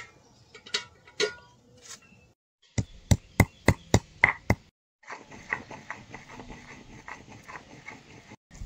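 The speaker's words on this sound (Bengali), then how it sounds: "আর ময়দা ছোট ছোট টুকরো করে নেব।" A knife chops maida dough into small pieces in a village-style home kitchen: a few scattered taps, then a run of six sharp, evenly spaced chops, followed by quicker, softer cutting strokes close by with no talk.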